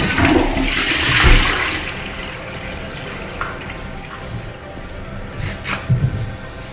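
A household toilet flushes with a loud rushing gush of water that fades into a steady hiss and trickle of the cistern refilling, with a few faint clinks near the end.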